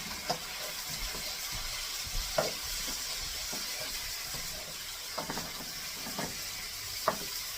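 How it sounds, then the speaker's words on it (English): Garlic is stirred into a skillet of kielbasa, cabbage and potatoes. A soft, constant sizzle carries a few light scrapes and knocks from the stirring, close and fairly quiet, with no talk. "And then we're going to stir all that in."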